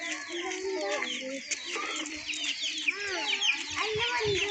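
Village chickens cluck and chirp in a busy, overlapping chorus close by, with a rooster-like call among them and faint human voices mixed into the outdoor scene.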